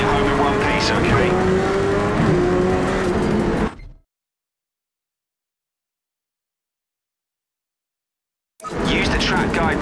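A race car engine in Project CARS 3 roars and climbs under acceleration, loud and dense for several seconds, then cuts to total silence before the engine noise returns abruptly near the end.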